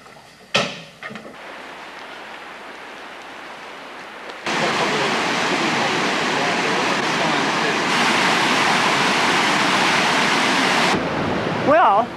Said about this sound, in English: The water's really rushing down there.